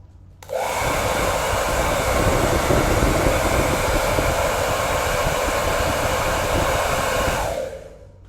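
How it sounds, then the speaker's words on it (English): Hair dryer drying wet watercolour paint on a skin-tone portrait, a steady loud whoosh that switches on, holds continuously for about seven seconds, then cuts off, with no talking. "I'll quickly hair dry and then move into the eye."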